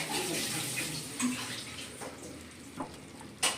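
Tap water runs steadily into a kitchen sink while morning dishes are washed, with occasional clinks and splashes of utensils, close and continuous.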